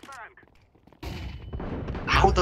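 Shotgun gunfire in a video game, a loud burst of shots after a quiet start, with the firing continuing and a heavier blast at the end, mixed with game sounds and a voice talking over it.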